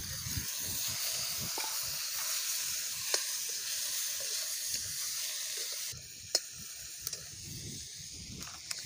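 Chopped tomatoes hitting a pan of frying masala for an Ayurvedic vegetable dish, giving a steady close sizzle and hiss with a few light clicks and taps of a utensil.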